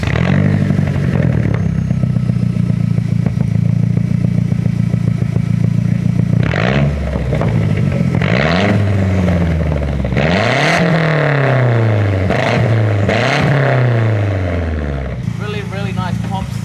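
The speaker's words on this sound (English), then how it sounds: "I'll do some cheeky revs" A loud Mazdaspeed3 turbo hatchback engine revs repeatedly in sharp rising and falling bursts, with crackling exhaust pops near the end.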